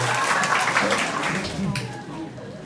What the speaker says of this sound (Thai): ขอบคุณมากให้ปรบมือดังๆ